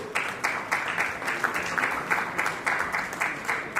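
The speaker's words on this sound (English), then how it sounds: "Please give a huge round of applause." An audience at an international conference breaks into sustained applause, a dense, even clapping that holds steady for several seconds with no speech over it.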